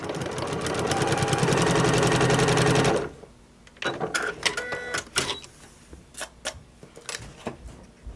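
A sewing machine stitches fabric in a loud, fast, rhythmic run for about three seconds, then stops, followed by scattered clicks and handling noises.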